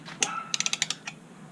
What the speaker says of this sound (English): now I keep trying, but it just keeps clicking.